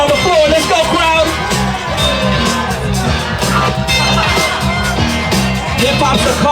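A crowd at a hip-hop dance battle cheers and shouts continuously, loud and close, over a thumping hip-hop beat, with a host talking over the noise.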